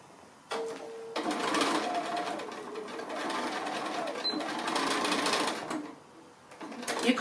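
A sewing machine stitches a fused sailboat pin cushion in steady continuous bursts, starting after a short pause, running loud and close for about five seconds, then slowing briefly before starting up again.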